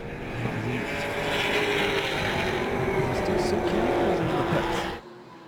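V8 race cars roar past at Pukekohe circuit, a steady loud engine drone holding for about five seconds before cutting off abruptly, with a commentator talking over it.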